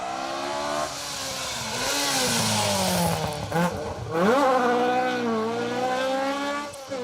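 A Mark II rally car drives an asphalt stage at Rally Ceredigion 2023, its engine revving hard, rising and falling through gear changes, and swelling loudly as it passes close by.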